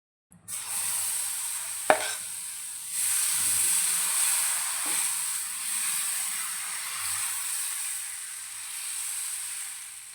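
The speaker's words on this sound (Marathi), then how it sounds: "तव्याला तेल लावून घेतले." Oil sizzles on a hot nonstick dosa pan over a gas flame, a steady bright hiss broken early by one sharp click, with no talk.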